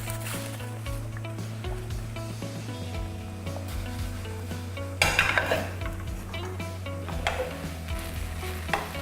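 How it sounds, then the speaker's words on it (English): Pasta and spinach sizzle in a frying pan while a utensil scrapes and clatters, with a louder tossing burst midway over a steady low hum. "So straight into the frying pan. And just give that just a quick toss through."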